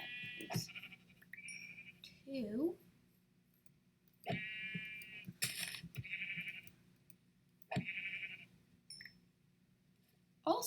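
Sheep bleating in Minecraft, several short bleats spread across the stretch alongside game sound effects such as hits and item pickups, fairly quiet overall with a brief spoken word.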